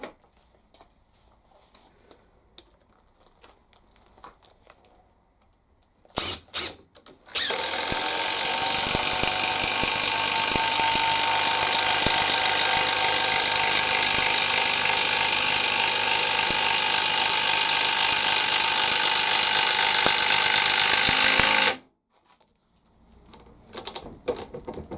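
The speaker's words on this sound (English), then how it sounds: "this is how an impact driver will do it" An impact driver drives a stubborn, stuck screw: a couple of short bursts, then a loud, continuous rapid hammering rattle that runs close up for about fifteen seconds before stopping abruptly.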